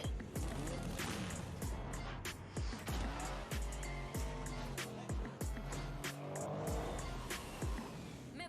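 Cars in the Rocket League video game race and skid, with repeated tire squeals, engine roars and rapid thumps of impacts overlapping densely throughout, loud and busy, with faint voices in the mix.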